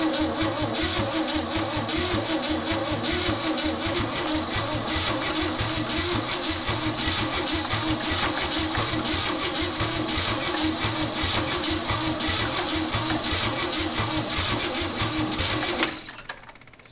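A 1963 Chevrolet C10 pickup, abandoned in a field for decades, cranks over steadily on its starter with a fast, even rhythmic chugging that runs loud and unbroken until it cuts off near the end.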